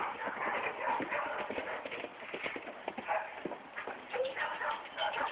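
Horse hooves clip-clop in a pasture, a faint, uneven run of thuds as the animal moves about, with a person speaking at points.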